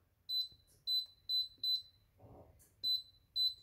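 An air fryer holding French fries, set to 200 degrees for 20 minutes, emits six short, sharp electronic beeps in an uneven series, clear and close, with a soft rustle between them.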